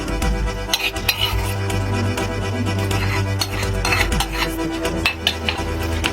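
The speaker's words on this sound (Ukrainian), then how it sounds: "Зразу жарка, цибулька з морквою на олії. Перекладаємо." Fried onion and carrot in oil being scraped and tipped from a pan into a clay pot for an old village dish, with clinks of metal on cookware and stirring scrapes over a steady low hum, no talk.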